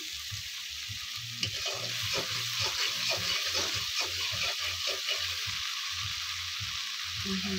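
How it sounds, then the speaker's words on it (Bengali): Spice paste frying in oil for a katla fish curry: a steady crackling sizzle with soft scraping and stirring taps throughout, close and moderately loud, with no voices. "দিয়ে তেলের উপর মশলাটা ভালো করে লাল লাল করে ভেজে নেব।"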